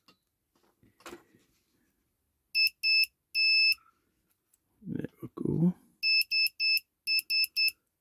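A homemade Morse key circuit built from recycled parts sounds a buzzer in short and long bright electronic bursts, tapped out in Morse-like groups; someone speaks briefly before the first bursts.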